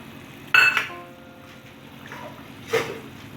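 A metal lid clinks onto a pot of spicy bata fish curry with kalo jeera tempering, a bright clatter followed by a softer settling clink a couple of seconds later, close and clear with no talk.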